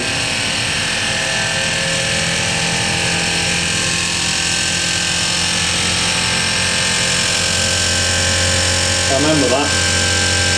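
A Zanussi SD 2811W spin dryer spinning at full speed, a loud steady whine with a constant low hum and vibration, a person speaking briefly near the end.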